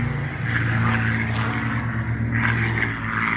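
Mustang aircraft flying past at Duxford, a steady loud propeller engine drone with a throbbing low hum, close and continuous for a few seconds.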